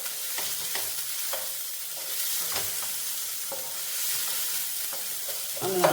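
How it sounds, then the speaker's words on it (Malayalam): Ripe tomatoes cook in a pan and are mashed with a ladle, giving a steady sizzle under repeated soft stirring and prodding knocks that continue throughout at moderate volume. "നമ്മൾ ഈ തവി വെച്ചിട്ട് ഒന്ന് ഇതിങ്ങനെ ഒന്ന് കുത്തി ഉടച്ചു കൊടുത്താലും മതിയാവും"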